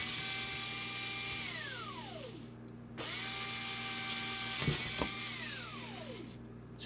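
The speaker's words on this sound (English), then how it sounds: "Sounds like a dentist drilling." A small power drill bores holes through a plastic guitar pick, its whine winding down and restarting in two drilling passes with a few light clicks between, close and steady.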